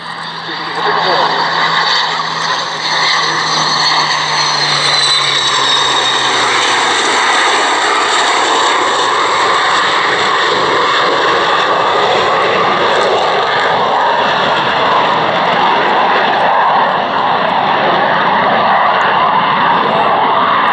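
Fly Navy aircraft pass over a grass airfield air show, a loud continuous engine drone that stays steady and close throughout, with a lower tone fading out early on.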